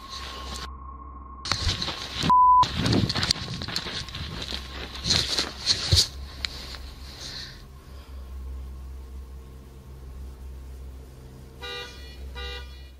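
A vehicle alarm sounds as a steady electronic tone, while loud bursts of commotion break over it early on. Later it switches to a pulsing, stuttering alarm pattern that repeats near the end.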